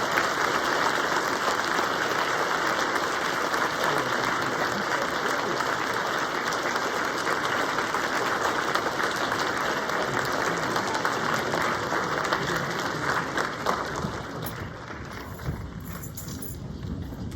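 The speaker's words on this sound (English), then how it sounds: "Can we one more time stand all over the auditorium and thank Mr. Montgomery this morning?" An audience applauding in a loud, sustained wave of clapping that fills a large hall, then gradually thins out near the end.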